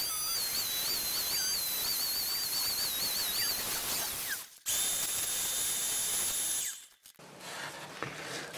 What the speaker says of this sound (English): So I'm going to drill a lot of this out.